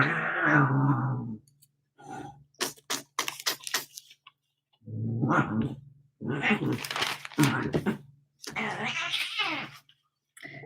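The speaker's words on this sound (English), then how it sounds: "My cats are attacking each other over there." Cats fight indoors, producing loud drawn-out caterwauls and yowls followed by sharp hisses and spits, coming in several bursts at moderate distance with pauses between them.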